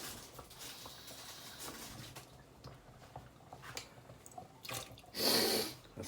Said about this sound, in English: I'll add a bit more water to that.